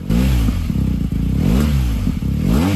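An air-cooled BMW GS boxer motorcycle engine revs up and down repeatedly, loud and close, with a lumpy throbbing rhythm and no talking.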